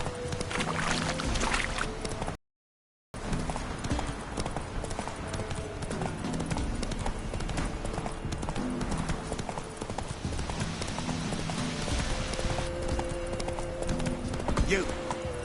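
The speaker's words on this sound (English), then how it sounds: "Horses racing." Galloping horses in The Witcher 3 video game, with continuous rhythmic hoofbeats over dense game ambience that cuts out for a brief moment, and a voice speaking at times.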